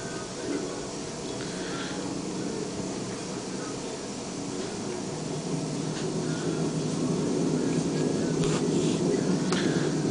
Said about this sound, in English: Inside a very noisy hospital.